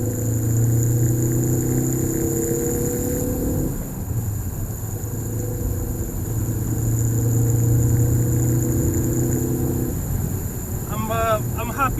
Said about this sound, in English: We're just going to give it a bit of gas.